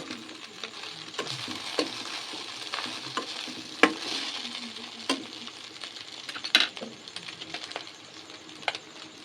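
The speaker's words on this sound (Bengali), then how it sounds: "সামান্য পরিমাণে ঝালের জন্য লঙ্কা গুঁড়ি। ভালোভাবে নেড়ে চেড়ে নেব।" A spatula scrapes and taps against a pan as chili powder is stirred into street-style egg chowmein, with a faint sizzle underneath and sharp intermittent clinks.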